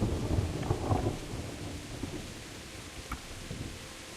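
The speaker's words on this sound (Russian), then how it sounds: "Когда там молния сейчас была." Thunder following a lightning strike in Kingdom Come: Deliverance: a deep rolling rumble that swells early and fades into steady rain and wind, heard alone without voices.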